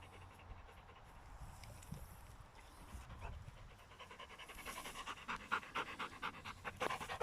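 A dog pants in steady, rapid breaths, faint at first and growing louder and more pronounced near the end, with no speech.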